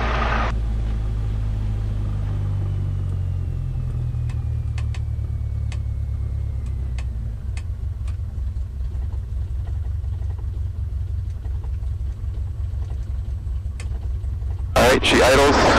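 The piston engine of a light training aircraft idles on the ground at a general aviation airport, a steady low rumble with a slight rhythmic throb, heard close under occasional talk and clicks.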